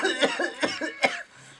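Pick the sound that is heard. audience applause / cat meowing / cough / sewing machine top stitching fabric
cough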